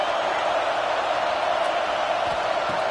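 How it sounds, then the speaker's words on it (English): A football stadium crowd roars in a steady, loud wash of noise, urging the home defense during a red zone stand, with no distinct voices standing out. "And here comes the noise. This crowd is trying to inspire this defense to make a big red zone stop."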